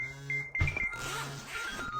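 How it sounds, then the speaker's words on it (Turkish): An electronic alarm beeps in a steady high tone, briefly interrupted by clattering handling noises and rustling nearby. "Alarm çalıyor ya."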